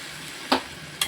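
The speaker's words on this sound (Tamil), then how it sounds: "தக்காளி வெங்காயம் நல்லா வதங்கிடுச்சு." Tomatoes and onions sautéing in a pan for paneer masala give a soft, steady sizzle, broken by two quick, louder scrapes of stirring about half a second apart.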